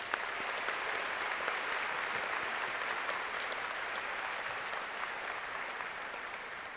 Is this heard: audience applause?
yes